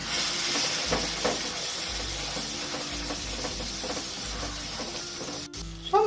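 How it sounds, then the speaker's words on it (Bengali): Fried whole spice paste cooking in a pan with a little water added, giving a steady, fairly loud hiss and sizzle throughout, heard alone with no voices, while making a banana flower dhoka curry. "আগে থেকে ভেজে রাখা পুরো মশলাটা অল্প পরিমাণে জল অ্যাড করে এই মশলার সাথে কষিয়ে নেব"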